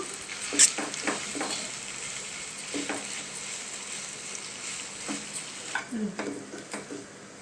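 Chicken and Maggi noodles stirred together in a pan over gentle heat, with a soft sizzle and irregular scraping and clinks of the spoon against the pan, fairly quiet and close.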